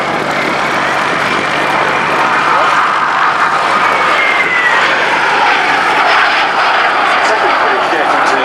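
Gloster Meteor T.7 jet flying at the Duxford VE Day airshow, a loud, steady roaring engine sound that holds throughout with a slight rising whoosh as it passes, under a commentator's talk.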